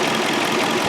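Car engine idling rough with a random cylinder misfire, a dense continuous rumble close by, steady and loud with slight uneven pulsing.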